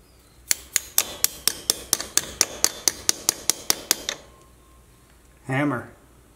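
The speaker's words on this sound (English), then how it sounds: "Hammer." Hammer striking repeatedly during a transfer case swap on a Jeep Comanche, about fifteen sharp, evenly spaced metallic blows in a steady rhythm, followed by a pause and a brief voice.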